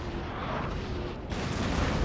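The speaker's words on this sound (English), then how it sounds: "So pretty much all my cannons are firing at this poor infantry unit." Massed cannon fire from a Napoleonic battle in the strategy game Napoleon: Total War, a loud, continuous rumble of booming artillery salvos that swells sharply in brightness near the end, with no voices.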